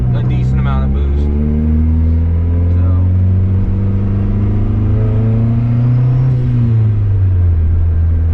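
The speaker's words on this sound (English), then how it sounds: "the gate is basically opening right away and staying open, and it dumps right under my feet, so I can hear it loud and clear" Turbocharged Honda Civic driving with its wastegate opening and dumping under the floor, a loud, steady engine drone with rising and falling tones and a rushing exhaust note throughout.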